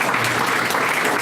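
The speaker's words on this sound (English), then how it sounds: "Yeah, you can clap." An audience at a business talk with a biotech CEO claps loudly and steadily, a dense, even wash of many hands close by with no pause through the short stretch.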